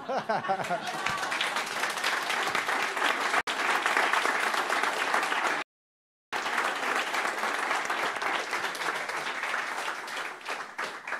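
Loud, sustained applause from a crowd with scattered chuckles, briefly cut to silence midway before the clapping resumes and carries on.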